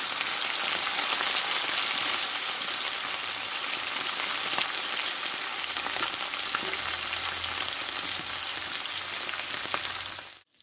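Fish coated in salt and turmeric frying in mustard oil in a hot pan, a loud, steady, dense sizzle with crackle that continues without a break and cuts off abruptly at the end.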